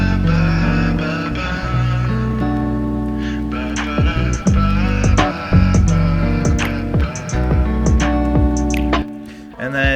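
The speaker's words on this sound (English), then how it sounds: "some radio on top of that, some gadgets, some reverb and echoes and such, to make it sound like this in the full beat" A lofi beat with a vocal run through a radio effect plus reverb and echoes, steady sustained chords and tones with dense rhythmic hits and pitch slides, loud and continuous throughout.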